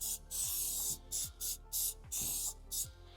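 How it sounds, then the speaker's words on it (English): Super glue activator sprays from an aerosol in a run of short bursts, about eight crisp hissing puffs in an uneven rhythm, close and clear with no voices. "But before we put some super glue on, we're just going to use an activator."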